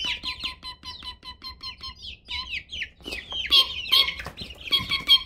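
Chickens cluck and call in a rapid, close series of sharp, repeated notes, growing busier and more overlapping toward the end, with no talking.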